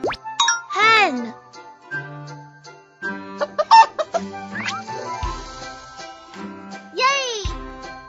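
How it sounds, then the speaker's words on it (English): A cartoon hen clucks in short bursts in a children's farm-animal cartoon, mixed with playful sound effects and pops while a voice speaks throughout. "Hen."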